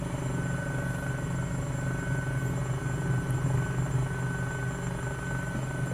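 An EC-135 helicopter in Flight Simulator 2020 holds a hover, its turbine whine and rotor thrum running as a steady, loud, continuous drone with no breaks and no talking.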